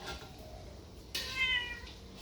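A cat meows clearly and close by in a home kitchen where sun-dried fried giant catfish belly is being served, a single drawn-out harmonic call rising out of quiet room noise.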